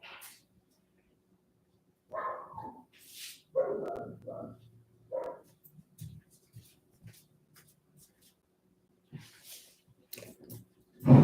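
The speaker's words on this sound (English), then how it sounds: "I hope you don't mind if my sweet rescue dog Maverick barks at the wind in the trees" A rescue dog barks outdoors, several short barks and yips scattered through a mostly quiet stretch, with soft shuffling and a faint voice nearby.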